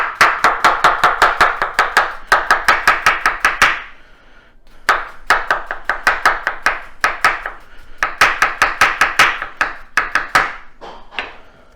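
A knife chops cucumber on a cutting board in quick, sharp, evenly spaced strokes, three bursts of rapid close chopping with short pauses between them and no talking.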